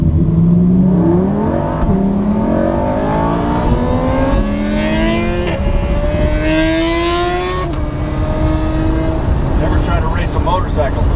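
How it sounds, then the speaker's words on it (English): A 2016 Lamborghini Huracan Spyder in sport mode, engine revving and climbing through gears with a loud rising tone that steps up repeatedly, heard from inside the car, with someone talking over it. "This car makes some really nice noise in sport mode."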